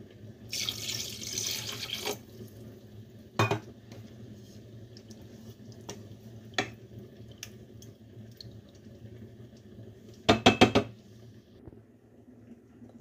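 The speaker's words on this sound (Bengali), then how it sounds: "একটু পানি দিব" Water runs into a cooking pan of chicken liver seasoned with salt and turmeric in two short bursts, a longer one near the start and a brief splash later, amid quiet kitchen clatter and occasional clicks.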